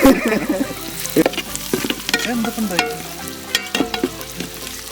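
Masala-marinated beef for Kerala-style beef peralan frying in a pan, with a steady sizzle broken by the scrape and clatter of a spoon stirring, close and fairly loud, with no talking.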